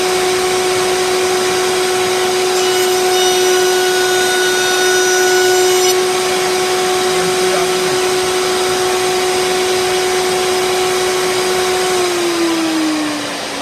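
A router table runs loudly and steadily with a constant motor whine and broadband cutting noise throughout, winding down near the end.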